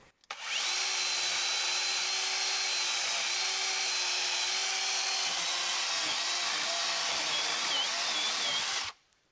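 A power saw grinds steadily through a clay wall for about nine seconds, a loud continuous cutting whine with slight pitch wavering as it bites, heard alone without talk.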